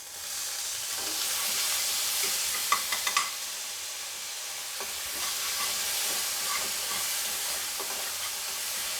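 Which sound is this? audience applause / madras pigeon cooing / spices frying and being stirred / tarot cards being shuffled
spices frying and being stirred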